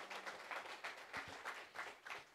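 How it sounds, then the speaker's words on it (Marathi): Enthusiastic audience applause at an award ceremony, rhythmic clapping from a crowd that stays fairly soft and distant, without talk over it. "तेव्हा त्यांसाठी एकदा जोरदार टाळ्या होऊन जाऊ देत"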